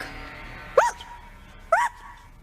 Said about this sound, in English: Let me hear you bark.